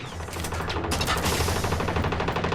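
Rapid automatic assault rifle fire in the video game Once Human: loud, dense bursts of shots run continuously from start to finish with no pause.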